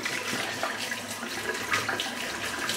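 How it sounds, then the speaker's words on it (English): A badger-knot shaving brush is rinsed under a running tap, producing a steady close hiss and splash of water at the sink with slight fluctuations. "I'm just going to rinse this brush out now."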